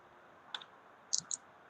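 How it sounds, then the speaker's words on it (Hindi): A few quiet, light clicks of calculator keys being pressed, spaced irregularly in a silent room. "यानी कि हम कैलकुलेटर में लिखेंगे"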